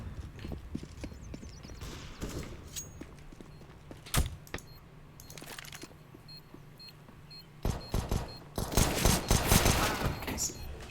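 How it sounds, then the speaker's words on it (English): Gunfire exchanged in a video game: bursts of shots and crackling rapid fire, one sharp crack near the middle, then a heavier volley toward the end under faint commentary. "Shots are exchanged and Wally is down"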